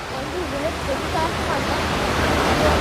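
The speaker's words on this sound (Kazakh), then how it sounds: "Су осы жерден кішігірім сарқырамадан құйылады екен." Continuous rushing water pours loudly and evenly from a small waterfall in Dubai, with faint voices murmuring beneath the roar.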